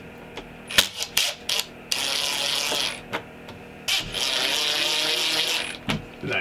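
A power driver sends screws into thin RV wall paneling: short whirring bursts and clicks followed by two longer steady drives, close and loud with little talk.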